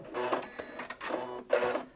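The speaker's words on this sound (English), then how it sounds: "as I sew, I can just see and feel that fabric feeding through perfectly, the two layers together" Janome Atelier 6 Anniversary Edition sewing machine stitching two layers of fabric, giving a close, steady mechanical whir that surges in three short bursts with brief easing between them.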